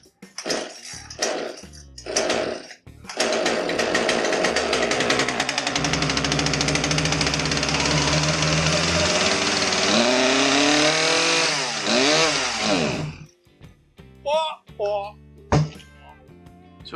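A Poulan Pro PR5020 chainsaw, flooded and smoking heavily, starts and roars loudly for about ten seconds with revving, then dies to intermittent sputters; short pulls and talk come before and after.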